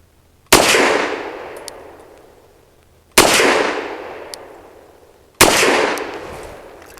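A Fusion Firearms Ermox XP Pro pistol fires Federal 70 grain lead-free rounds, three loud, sharp shots spaced a few seconds apart, each cracking sharply then ringing away in a long decaying tail.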